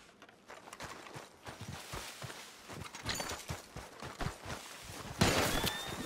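Horse hooves in the video game Red Dead Redemption 2, repeated clip-clop hoofbeats at a galloping rhythm, growing louder, mixed with rattling tack and a burst of noise near the end.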